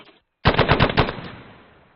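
In a military video game squad training session, a machine gun fires one rapid burst of about seven shots after a brief silence. The burst is loud and close, and its echo fades out slowly.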